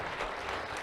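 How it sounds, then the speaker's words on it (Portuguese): Steady applause from a church congregation during a service, dense continuous clapping filling the whole moment with no voices standing out. "Será que você pode aplaudir o Senhor Jesus?"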